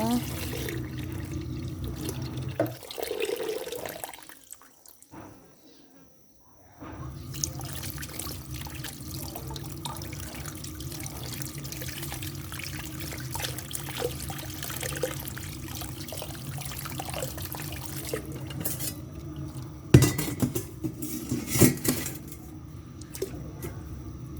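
Tap water runs steadily into a sink while large mushrooms are washed under it, a continuous trickle and splash with a brief pause partway and a few louder handling splashes near the end.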